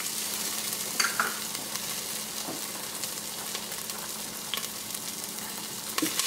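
Garlic and ginger sizzle steadily in a hot pan for a ramen base, a dense continuous frying hiss with a few sharper crackles and occasional stirring scrapes, close and fairly loud with no talking.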